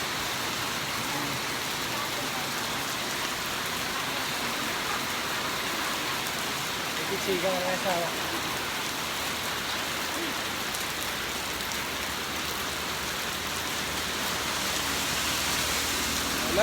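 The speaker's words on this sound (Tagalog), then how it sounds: "Ulan." Steady rain falls with an even, broadband hiss throughout, and a voice speaks briefly and quietly in the middle.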